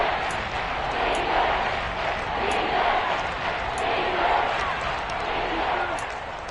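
Steady crowd roar from a Madden football video game stadium, a broad sustained cheer swelling and easing in waves throughout with faint sharp clicks on top, no clear talk over it.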